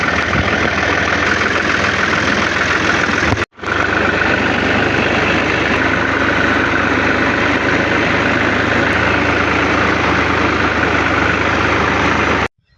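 Tractor engine idling close by, a steady low rumbling chug that cuts out for a split second early on and then keeps running evenly until the very end.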